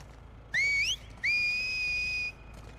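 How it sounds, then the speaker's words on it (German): A character whistles in the video game The Last of Us Part II: a short rising whistle, a brief pause, then a longer, steady, high-pitched whistle, clear and alone. "Ja, pfeifen können sie."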